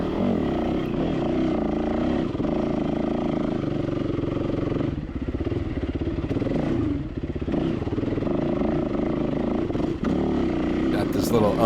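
A dirt bike climbs uphill mid-pack in a SoCal hare and hound race on soft, silty, sandy dirt, the engine revving loud and close with a brief dip as the clutch slips.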